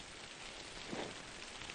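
Soft, steady rain falling on a surface, a faint even hiss with no talking.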